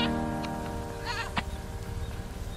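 A goat bleating outdoors on a coastal hiking trail on Geumodo island, Yeosu, with one drawn-out wavering bleat near the middle over steady background noise.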